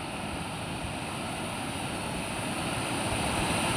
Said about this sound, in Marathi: धबधब्याचा आवाज येतोय बघा